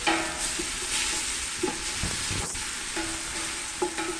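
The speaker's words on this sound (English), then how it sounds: "We just kind of let that saute" Vegetables and cayenne pepper sauté in a pot for cioppino, giving a continuous soft sizzle with a few light utensil taps and stirring scrapes, and no voices.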